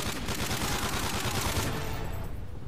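Rapid bursts of automatic gunfire in Call of Duty Modern Warfare 3 Survival mode on the Arkaden map, a dense, loud fusillade of overlapping shots that stops abruptly near the end, no talking.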